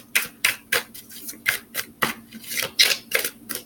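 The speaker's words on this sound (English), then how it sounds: "And I'm shuffling the cards right now." Crisp, rhythmic riffling and slapping of tarot cards being shuffled, a quick series of close bursts roughly every third of a second.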